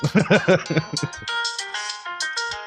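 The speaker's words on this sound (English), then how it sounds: "this is my mom's cell phone" A cell phone ringtone plays a bright melodic jingle of repeated chiming notes, loud and close, after a short burst of laughter-like voice at the start.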